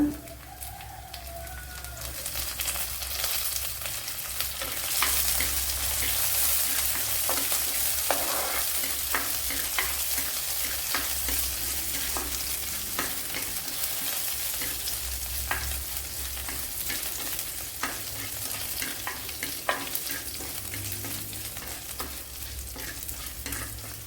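Curry leaves hitting hot oil on a Kerala stovetop while mackerel fish curry is prepared, giving a steady crackling sizzle with scattered sharp pops and spatters throughout, close and fairly loud, with no talking.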